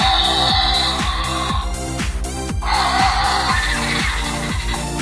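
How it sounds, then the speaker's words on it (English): Jurassic World Roarivores pteranodon toy giving off electronic screeching calls over a steady, rhythmic mechanical pulsing, loud and close, with shrill tones rising and falling throughout. "very cool noises from this pteranodon right here"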